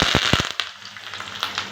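Urad dal hits hot coconut oil for tempering a Kerala aviyal, giving a burst of sharp crackling pops that settle into a fainter, scattered sizzle, close and without talk.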